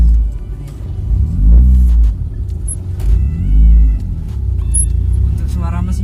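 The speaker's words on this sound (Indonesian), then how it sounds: "yang masuk ini malah suara knalpotnya ya, memang keras knalpotnya tadi ya, lumayan" A Mazda MX6 exhaust rumbles low and loud from inside the moving car, swelling and easing in slow waves while someone talks over it.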